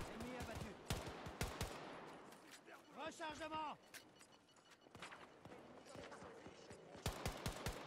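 Pistol fire in a zombie mode of the Battlefield video game, rapid loud shots in clusters mixed with other in-game effects, with excited voices talking over the action.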